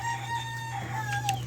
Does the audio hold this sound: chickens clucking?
yes